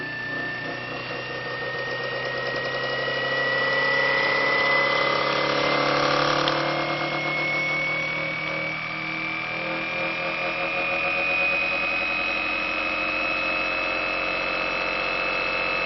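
A reactive generator winds up toward roughly 2,700 RPM with a steady mechanical whine whose tones slowly climb in pitch before settling into a constant hum, loud and continuous, with no talking.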